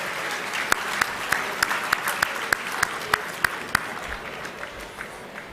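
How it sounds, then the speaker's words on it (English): An alumni dinner ceremony audience gives sustained, broad applause, with a few sharp, prominent claps standing out at a regular pace near the front and the clapping easing slightly toward the end. "You should all give yourself a big round of applause."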